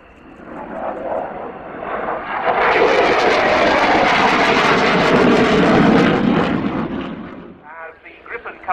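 Saab Gripen fighter jet coming in to land over the runway threshold at Yeovilton airshow: a loud, close engine roar builds quickly, holds for several seconds, then drops away.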